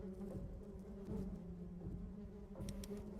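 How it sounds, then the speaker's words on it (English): A swarm of bees drones steadily inside a building, a dense, continuous buzzing hum that holds at a constant loud level throughout, with a brief extra rustle of wings near the end. "And the sound of bees gets louder."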